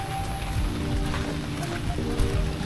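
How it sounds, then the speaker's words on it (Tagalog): Rain patters steadily outdoors at a farm resort campsite in Meycauayan, a dense wash of drops with low rumbling underneath, continuous and moderately loud throughout. "Umuulan pa din."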